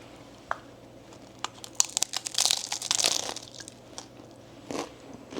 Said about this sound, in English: It's gonna be very crunchy.